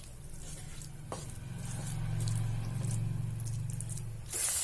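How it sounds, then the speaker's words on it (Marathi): Khoa milk solids being roasted and stirred in a pan for sesame and peanut barfi, giving a steady soft sizzle with scraping strokes that swells through the middle, with no talking. "हा थोडासा मी परतून घेणार आहे खवा।"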